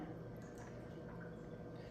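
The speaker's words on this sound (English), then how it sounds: "Pour it all in there." A steady, low liquid pour with soft trickling and faint dripping as a premium cocktail runs over a large ice ball in a glass.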